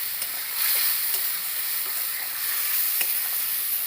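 Mustard-poppy spice paste frying and being stirred in a pan, cooked down for a pointed gourd dish: a steady close sizzle with faint scraping stirs throughout, no talking.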